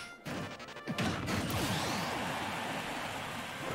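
An up smash attack from Mega Man lands with a sharp crash in a Super Smash Bros tournament match against Fox, followed by a sustained noisy whoosh and crowd wash, fairly quiet overall.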